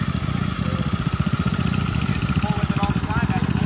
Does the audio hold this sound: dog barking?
no